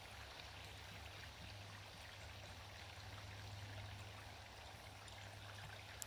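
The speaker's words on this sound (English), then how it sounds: "But there's another little waterfall up there." Steady rushing trickle of a small waterfall at Tyler State Park, constant and moderately distant, with no voices.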